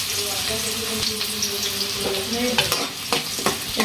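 Steady loud sizzling of chopped onions frying in hot oil, with stirring scrapes and a few clinks toward the end.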